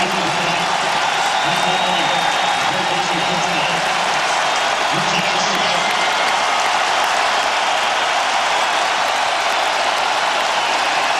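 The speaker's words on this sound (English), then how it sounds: "Listen to this crowd." A football stadium crowd cheers and applauds at a 2012 West Virginia vs Kansas game. It is a loud, continuous wash of clapping and roaring voices throughout.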